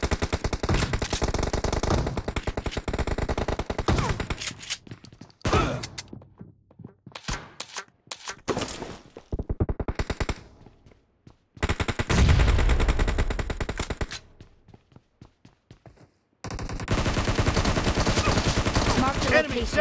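Rapid automatic gunfire from a BGMI team deathmatch game comes in loud sustained bursts separated by short pauses and brief gaps of near silence, with game voice callouts faintly mixed in.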